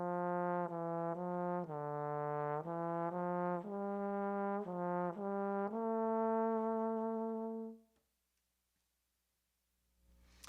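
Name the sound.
trombone playing legato etude phrase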